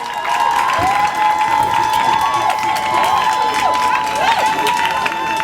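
Audience at a university cultural week grand durbar in Winneba, Ghana, applauding and cheering a department head, steady crowd clapping with raised voices and shouts throughout, close and loud.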